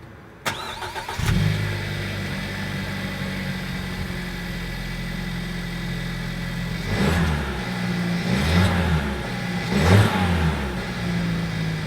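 A 2018 Suzuki Swift Sport starts up and then runs at a steady, moderately loud engine drone while driving, swelling in a few revs toward the end, with no talking.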